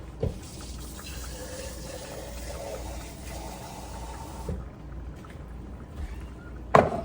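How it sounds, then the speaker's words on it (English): Water sloshes and pours steadily for several seconds while a used metal can of Alfredo sauce is rinsed and shaken, then a brief pause and a sharp clank near the end; no talking. "So I put some water in it and I'm shaking it up and I'm pouring it inside the other can"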